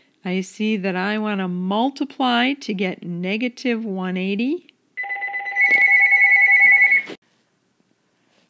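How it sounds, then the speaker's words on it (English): A telephone rings with a repeated electronic trill near the end, loud and close, right after a man finishes explaining a math step; his talk comes first and the ringing follows alone. "Sorry about the phone calls. I keep getting calls here."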